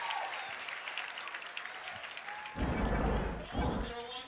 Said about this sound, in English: And that gets the crowd fired up here.